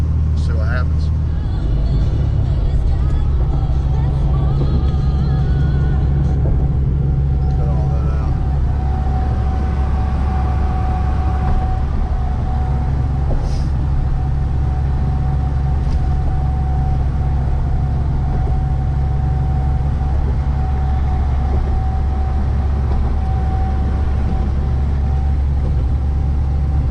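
A car drives over a bumpy road, heard from inside the cabin as a loud, steady low engine and road drone with occasional thumps and rattles.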